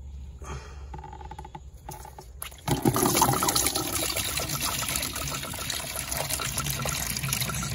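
Engine coolant from a Porsche 911 gushes into a tall bucket, starting as a quieter trickle before a sudden louder rush of steady pouring liquid that continues to the end.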